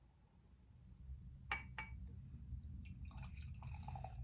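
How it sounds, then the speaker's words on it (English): Twice Brewed Galba, a DDH Citra pale ale, is poured into a glass, giving faint liquid trickling with a couple of light glassy clinks and a soft fizzing splash over a low background hum. "Or you just want to pour it straight in and get the fizz out?"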